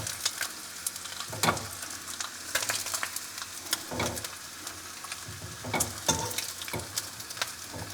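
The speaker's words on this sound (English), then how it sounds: "Wow, that is some fast cooking bacon." Bacon frying in a cast iron skillet for a breakfast dish, giving a steady close sizzle with a few sharper pops and stirring scrapes, no talking.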